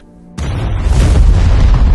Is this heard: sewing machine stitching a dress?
no